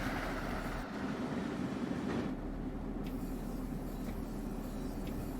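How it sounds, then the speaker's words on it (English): An ACS-64 locomotive rolls past in Train Sim World 3 on the Northeast Corridor, a steady rumbling wheel-and-rail drone with faint clicks, moderately loud and continuous, no speech. "There's an ACS 64 right there."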